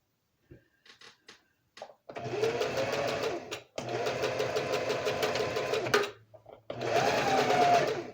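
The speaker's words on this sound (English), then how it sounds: "Remember to always back stitch, even though that says reverse, it's a back stitch." A sewing machine sews a back stitch in several bursts: a few quick needle taps, then three long, steady mechanical whirring runs separated by short pauses, close and clear.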